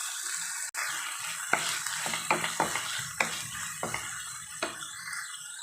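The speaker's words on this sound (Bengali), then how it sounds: "আর আদা রসুন বাটাটাকে অল্প করে ভেজে নিয়েছি" Ginger-garlic paste frying in a pan with onion and tomato for a prawn malai curry, a soft, low sizzle punctuated by several sharp scraping stirs, heard close and fairly quiet.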